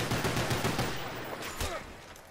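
Gunfire from Black Ops 1 Zombies, a dense burst of rapid shots in the first second, then scattered further shots and game noise, fairly loud with no talk over it.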